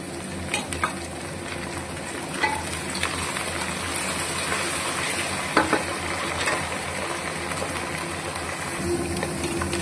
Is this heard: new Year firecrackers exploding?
no